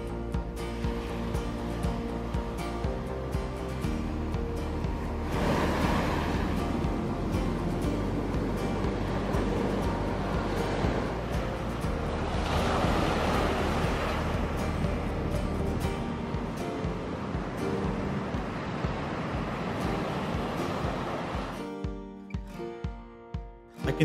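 Pacific Ocean waves on a rugged West Coast shoreline, long swelling washes of surf rising and falling over a steady roar with some wind buffeting, no voices.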